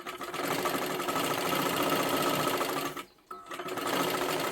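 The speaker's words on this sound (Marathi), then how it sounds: "इथे आपल्याला ही शिलाई करून घ्यायचं आहे" A sewing machine stitches a lining into silky fabric with a fast, steady, whirring run, pausing briefly near the end before starting up again; close and clear with no talk.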